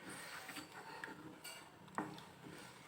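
Cireng dough being stirred in a pan over the fire makes soft scraping and tapping sounds, with one sharper clink of the utensil against the pan, faint and close, with no talk.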